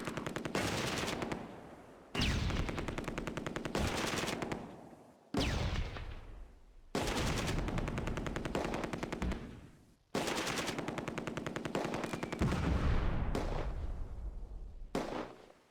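Long bursts of MG42 machine-gun fire rattle in a World War II tactical video game battle, several sustained volleys separated by short gaps, loud and close, with no voices.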